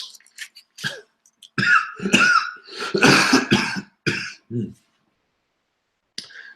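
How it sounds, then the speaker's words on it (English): A few sharp coughs and throat-clearing bursts, close and loud, then a short pause before another brief cough. "I'm still trying to get over a cough"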